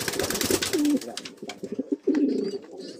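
A large red-and-white pigeon coos nearby in soft, low, rolling phrases, joined by some faint rustling and background noise.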